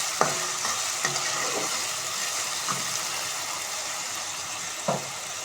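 Potatoes and chopped onion fry in a pan for a banana flower curry, making a soft, steady sizzle broken by a few sharp spatula knocks spaced about a second apart.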